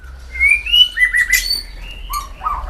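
A male white-rumped shama (murai batu) sings alone in clear, sweet whistled phrases that rise and fall, with a few sharp chirps between them against quiet surroundings.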